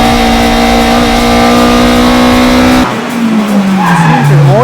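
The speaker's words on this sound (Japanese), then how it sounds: "With the new GT Wing, Tsuchiya's Hachiroku showed good speed through the high-speed corners." Toyota AE86 Hachiroku race car fitted with a GT wing cornering hard on a circuit, engine droning steadily before its pitch sweeps downward as tires skid and squeal, loud and close throughout.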